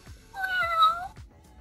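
A toy kitten gives one drawn-out electronic meow, close and fairly soft, with faint clicks before and after it.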